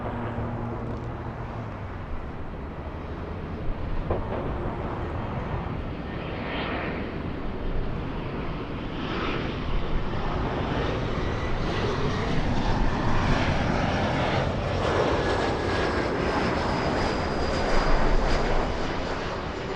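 An airliner's engines drone steadily throughout a flight to Santiago de Chile, a constant broad rumble heard from inside the cabin with slight swells, and no talking.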